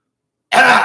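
A single short, rough throat clearing bursts in suddenly after a moment of silence, close and loud.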